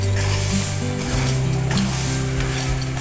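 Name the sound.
semolina roasting in desi ghee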